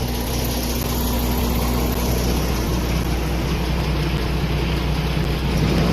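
A truck with super single tires runs its engine at low speed while being parallel parked on a real street. It makes a loud, steady, droning idle with a constant low hum throughout.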